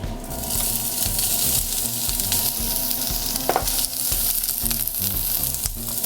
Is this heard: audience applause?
no